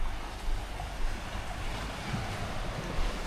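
Ocean waves breaking on the shore at Koh Samet, Thailand, a steady broadband wash with soft surges, mixed with wind noise on the microphone and no talk.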